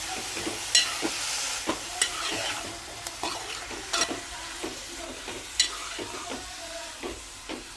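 Fenugreek leaves are stirred in a hot pan, repeated scraping strokes over a soft continuous sizzle, close and steady, no voices.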